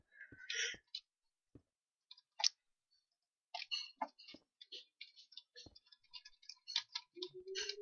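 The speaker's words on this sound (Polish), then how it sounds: "Coś się dzieje z tą klawiaturą tak strasznie słychać." A non-laptop computer keyboard used while playing Skyblock gives sharp, loud clicks, sparse single taps at first, then a rapid run of keystrokes, close to the microphone.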